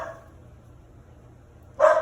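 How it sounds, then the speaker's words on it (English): Dogs at home burst into loud, close barking at someone arriving at the door, a short sharp volley arriving abruptly after a stretch of near silence. "you can hear my dogs barking because someone just came to the door"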